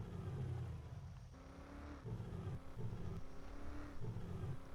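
Car engine revving in the survival game 7 Days to Die, a steady low motor drone that surges in repeated bursts without any talk.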